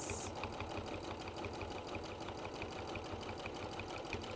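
A sewing machine runs steadily while stitching a second line, its needle clattering in a fast, even rhythm throughout, close and continuous with no voices.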